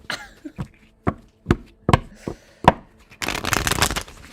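Tarot cards are shuffled in quick, sharp riffles, about eight separate close snaps followed by a denser burst of flicking, with no talking.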